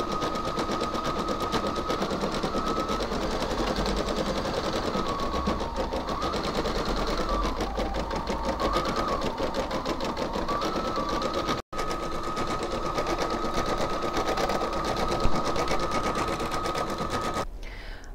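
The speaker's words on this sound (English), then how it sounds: "And now we can carry on stitching." An embroidery sewing machine stitching a make-up brush holder, a steady, rapid mechanical whirring and needle chatter running close and continuous, with one brief pause near the end.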